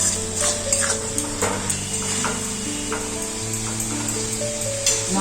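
Spice masala with grated tomato sautés in a pan without added water, sizzling softly while a spoon stirs and scrapes in short repeated strokes, with faint clinks against the pot.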